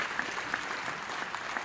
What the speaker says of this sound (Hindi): जोर से, तालियों में तो दम होना चाहिए ना ये हाई फाइव में